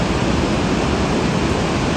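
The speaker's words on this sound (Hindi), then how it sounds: "ग्लेशियर से बहता हुआ पानी भाई, इसका भाव देखो कितनी स्पीड है" Glacier meltwater river rushing fast beside the trail from Govindghat toward Gobind Dham on the Hemkund route in October, a steady, loud, unbroken roar of water close by with no voices.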